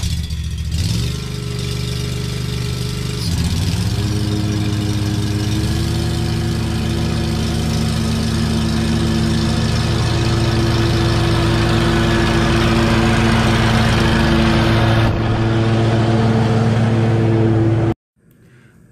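A lawn mower engine runs steadily while cutting warm-season grass, a loud, continuous drone with shifting pitch that fills the whole stretch before cutting off abruptly near the end.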